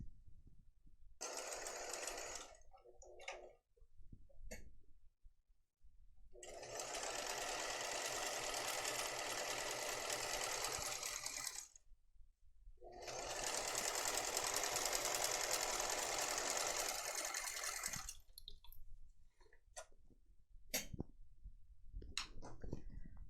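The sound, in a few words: sewing machine stitching tote bag pocket edge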